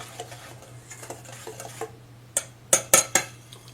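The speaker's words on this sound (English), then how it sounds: "we're just gonna mix that up with a wire whisk" Wire whisk mixing dry sugar-cookie ingredients in a bowl, starting as soft rhythmic swishing and ending with several sharp metallic taps against the bowl rim, over a steady low hum.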